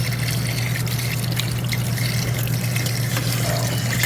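Cold tap water runs steadily over drained, cooked bottle gourd in a small sink. A continuous close splashing flow plays over a low, constant hum.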